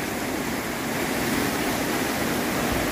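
Floodwater surges on Mount Banahaw, a dense, constant roar of rushing water close by, steady and unbroken with no voices.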